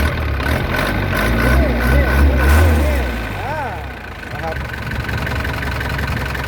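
An Isuzu NPR115 six-wheel truck engine idles with a low steady rumble, briefly revving louder before settling back; a person talks over it.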